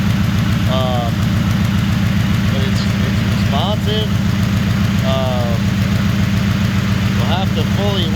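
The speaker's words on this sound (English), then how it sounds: "It sounds like a healthy motor, other than that exhaust leak" A Chevrolet S10's engine, newly fitted with Holley Sniper EFI and having an exhaust leak, idles loudly with a steady, even rumble throughout, while people talk intermittently over it.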